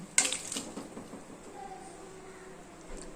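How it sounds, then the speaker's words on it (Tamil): Tumbler of water poured into a cooking pan while mango is being cooked for a sweet mango roll: a close, sudden splash at the start, then a short trickle that fades into quiet kitchen background. "ஒரு வானல் வச்சுருக்கேன் ஒரு டம்ளர் தண்ணி ஊற்றிருக்கேன்"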